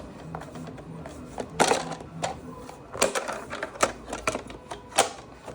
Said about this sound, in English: Reinstall this back plate, snapping it in.